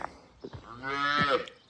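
A weaned calf lets out a single drawn-out moo, rising and swelling over about a second, fairly close with a few faint shuffling sounds before it.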